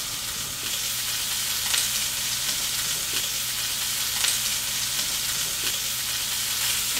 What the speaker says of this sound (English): Nothing better than the sound of bacon frying.